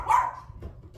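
Dog barking once, a short sharp bark at close range indoors followed by a fainter soft yip.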